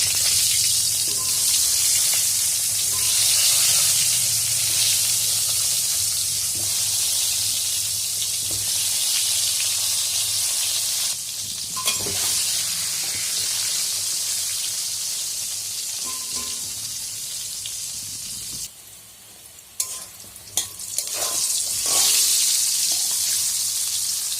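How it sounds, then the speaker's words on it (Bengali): Pointed gourd (potol) frying in hot oil with salt and turmeric in a wok, giving a loud, steady sizzle that runs throughout, with occasional stirring clinks and a short dip near the end. "এবার পটলগুলো আস্তে আস্তে দিয়ে দেব।"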